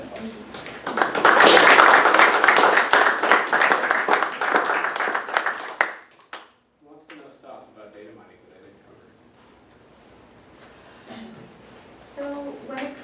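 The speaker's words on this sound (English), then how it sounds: "We have time for applause." Applause at the end of a research presentation on learning analytics tools: a burst of clapping from a modest audience that swells, holds for several seconds, then cuts off abruptly, followed by quiet talking.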